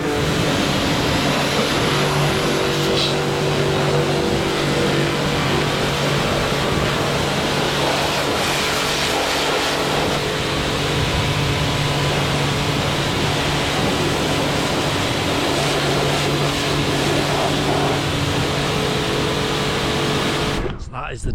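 A pressure washer sprays water over a muddy disc harrow on a farm, a loud, continuous broadband hiss and roar that runs unbroken for about twenty seconds before cutting off abruptly.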